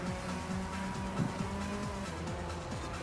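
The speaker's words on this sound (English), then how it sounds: "If you were right up here with me, Marky, you'd be hearing the supercharger whine." A car in the racing video game Forza Horizon 5 runs with a supercharger whine riding over its engine, the pitch rising and falling repeatedly through gear changes at a steady, moderate level.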